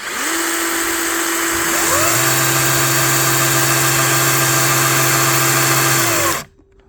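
A new cordless saw powered by a single battery whirs close and loud, its motor pitch climbing as it spins up, holding a steady high whine for several seconds, then cutting off abruptly.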